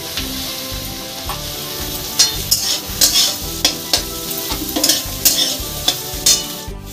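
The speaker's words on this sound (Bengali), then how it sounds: "একটু হালকা করে ভাজা ভাজা করে নেব।" Onion, garlic, ginger, green chillies and cashews fry and sizzle steadily in a pan, with repeated sharp clicks and scrapes of a spatula stirring them, close and fairly loud with no voices.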